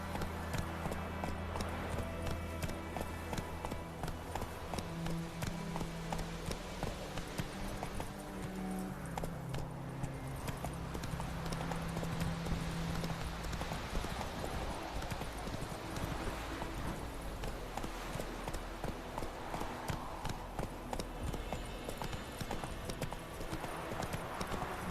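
Horse Roach galloping in The Witcher 3, rapid rhythmic hoofbeats thudding continuously for the whole stretch, fairly close, with faint background ambience.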